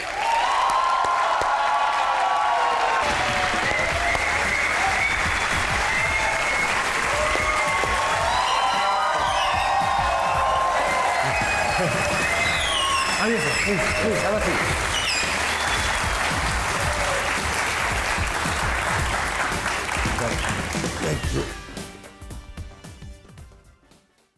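Enthusiastic applause and cheers from a studio audience of a comedy talk show greeting actors Behroze Sabzwari and Javed Sheikh, loud continuous clapping for about twenty seconds before tapering off, with someone speaking briefly over it.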